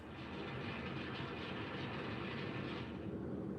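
A passenger train speeding through Germany at around 160 km/h, giving a steady, dense rolling roar with an unbroken rumble heard from inside the carriage throughout.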